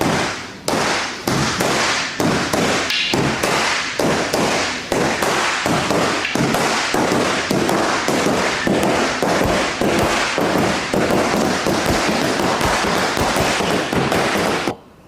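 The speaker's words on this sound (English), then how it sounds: "Get the tip, only the tip hitting the bag, right?" An eskrima stick's tip strikes a training bag in a rapid, relentless series of sharp, loud slaps and cracks, dozens of hits in quick steady rhythm close to the microphone, with no talking.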